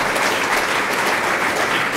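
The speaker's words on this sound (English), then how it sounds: "That deserves a round of applause, Naya." A crowd applauds with steady, dense clapping that holds at full strength throughout.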